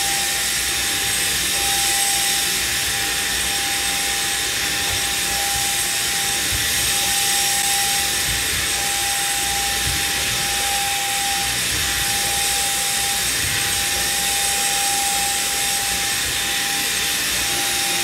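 A Jimmy PW11 Pro Max wet and dry vacuum cleaner runs continuously with a loud, steady motor whine and airy hiss, including a sustained tonal hum, close and unbroken with no speech.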